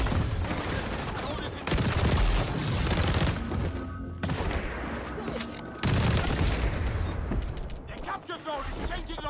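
A Vector submachine gun fires in XDefiant, fitted with extended magazines. Loud rapid bursts of automatic gunfire repeat through the stretch, broken by short pauses, with the booms and mechanical clatter of game combat.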